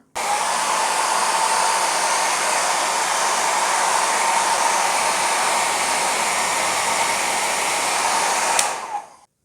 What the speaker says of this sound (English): You may use a hair dryer.